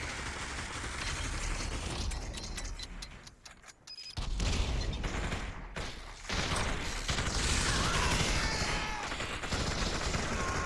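Gunfire and shotgun blasts in a Population: One VR battle royale match, a busy run of sharp repeated shots with dense clatter, brief lulls near the middle, then sustained firing to the end.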